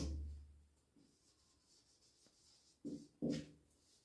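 Pen on paper while maths working is jotted down, with faint scratchy strokes and a couple of louder scrapes and taps near the end, close and quiet, no talking.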